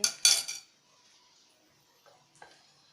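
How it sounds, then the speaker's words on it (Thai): A spoon clinks rapidly against a glass while stirring a red syrup drink mixed with water: a quick burst of bright metallic taps, then a pause and a couple of fainter clinks. "ใส่น้ำแล้วก็คนเลยฮะ"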